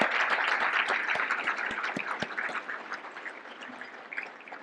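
An audience at a business organization's annual dinner claps for the executive committee, starting as a dense round of applause with a few sharp claps before tapering off and thinning toward the end.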